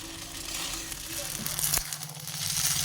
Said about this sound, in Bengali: এর মধ্যে চাউমিনটা খানিক ভেজে নেবো